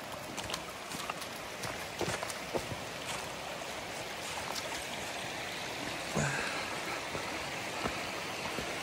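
A stream flowing across a hiking trail crossing, a steady wide wash of running water with small splashes and trickles throughout, fairly distant and even, with no voices.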